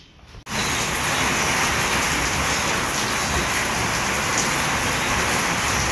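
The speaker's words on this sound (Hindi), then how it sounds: "बहुत तेज़ बारिश शुरू हो गई अचानक से।" Heavy rain in a home plant garden starts all at once, jumping from near quiet to a loud, steady, dense hiss of pouring water that continues without pause.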